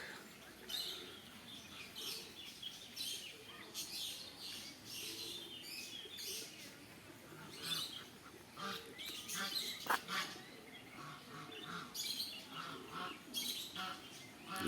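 Ducks quack and chatter in short irregular bursts at moderate distance in a farmyard with chickens and geese, other bird calls mixed in over outdoor background noise.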